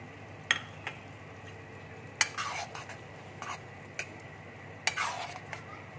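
Ghee and fried onions going onto mutton keema in a pan, with faint soft sizzling under a few sharp clinks and scrapes of a spoon against the pot, spaced irregularly.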